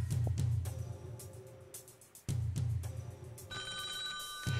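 A telephone rings in a TV call-in show studio, with repeated loud electronic bursts over a low studio hum and a brief pause between rings.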